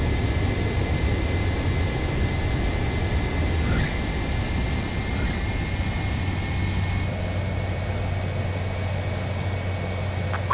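ADFX-01 jet landing in Ace Combat 7: Skies Unknown, a steady close engine roar and rushing air with a faint whine, continuous throughout and with no talk.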